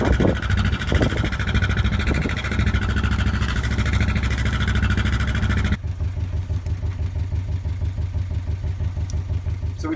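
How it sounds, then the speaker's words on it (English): A boat's inboard engine runs with the revs raised before launch: a loud, throbbing idle that steps down abruptly to a lower, pulsing rumble partway through, with no talk. "Pick up the revs a little bit and then make sure that she's pumping."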